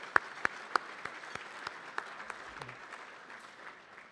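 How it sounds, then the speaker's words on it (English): Scattered, sharp hand claps from a dinner audience at a CFA Colorado Society forecast dinner, a few crisp near claps at the start thinning into softer, sparser applause as it fades. "Please give them a round of applause."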